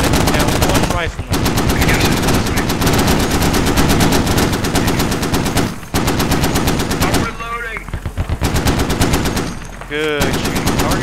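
A .50 cal machine gun and an Mk19 grenade launcher lay down suppressive traversing fire on an objective in loud, sustained rapid bursts. The bursts break off for short pauses. Faint shouted voices come through in the gaps.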